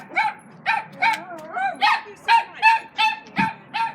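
A puppy barks in a run of about nine high, yappy barks with a few whimpering yips between them, close and fairly loud, with no talking over it.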